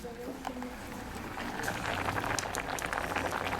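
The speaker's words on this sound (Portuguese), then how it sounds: "Está fervendo, tá quase no ponto." Water with fruit and spices bubbles in a pot on the stove, a soft close simmer that grows busier and louder partway through, with people talking nearby.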